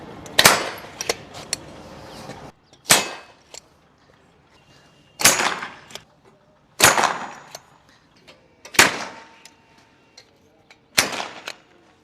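Six loud, sharp bangs from a hand-held powder-actuated nail gun driving nails into steel, each a sudden crack with a short ringing tail, spaced a couple of seconds apart.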